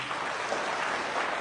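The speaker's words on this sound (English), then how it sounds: "Clap for him." A crowd of NPP delegates claps at a political rally in the Sissala East constituency, making a dense, steady wash of applause that holds at an even level throughout.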